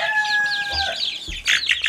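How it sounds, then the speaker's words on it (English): Chickens clucking and chirping close by, a run of quick pulsing calls that pause briefly and then resume, with a faint tone early on. "Here they come. The sweetest chickens."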